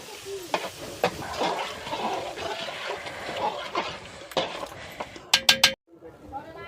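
Water is poured into a pot of rice for chicken biryani, a running, splashy pour under a voice talking, followed by a few sharp clinks of metal utensils against the pot.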